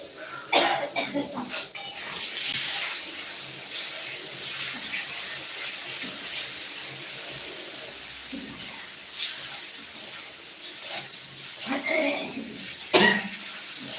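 Fish roe curry braising in a pan, giving a steady loud sizzle and steam hiss throughout, with occasional clinks of a utensil and brief bursts of louder spattering.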